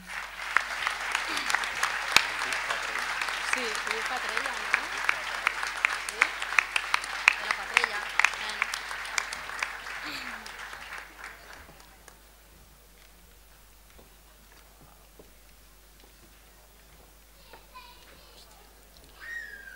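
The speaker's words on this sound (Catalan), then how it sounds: "Rebem-los a l'escenari amb un fort aplaudiment." A large audience gives loud, sustained applause as guests, including the Pubilla de la Fadrella, are welcomed onstage at the Festa Major opening proclamation in Riba-roja d'Ebre. The clapping fades out after about ten seconds, leaving a quiet room with a few brief spoken words.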